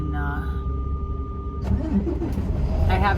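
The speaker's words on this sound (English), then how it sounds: "my truck's about to start" A semi truck's engine cranks and catches about midway, shifting a steady low hum into a rougher, louder diesel rumble with a few clunks, the truck parked with new batteries.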